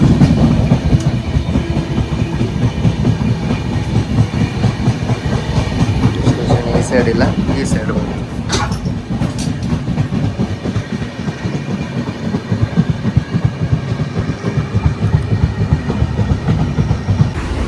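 Inside the Yeshwantpur–Vasco Goa Express as it runs, the wheels keep up a steady, loud rhythmic clickety-clack and carriage rumble, while people talk briefly nearby.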